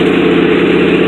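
Old 1967 Ford Thunderbird engine on fast idle on a cold day, a loud steady rumbling drone with even vibration, close up and continuous with no talking.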